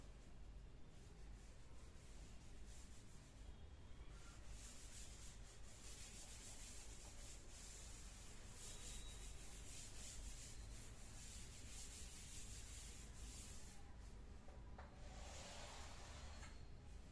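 Steady, continuous rubbing of an eraser across a paper ledger page, a soft scratchy friction that runs without a break, close and fairly quiet, with no talk over it.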